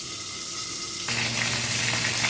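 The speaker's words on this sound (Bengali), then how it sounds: "মাছগুলো ভাজা হয়ে গেছে" Katla fish pieces frying in hot oil, a continuous hiss and bubble that jumps louder halfway through, close and steady with no voices.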